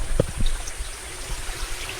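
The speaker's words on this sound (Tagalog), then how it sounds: "May tubig, ang lakas ng tubig." A strong rush of water pours from a mountain spring on Mount Balagbag as a steady, close, broadband flow, with a brief low knock near the start and no talk.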